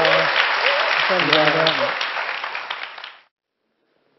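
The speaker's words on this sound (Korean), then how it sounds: "큰 박수 부탁드립니다." An audience at an entrepreneurship concert applauds the speakers with loud, dense clapping while a presenter speaks briefly over it; the applause tapers and then cuts off abruptly into silence.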